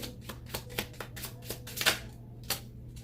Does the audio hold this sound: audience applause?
no